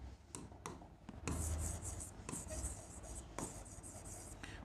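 A pen scratches across paper while a maths problem is worked out, with soft, close strokes and short taps in irregular bursts, quiet and steady throughout.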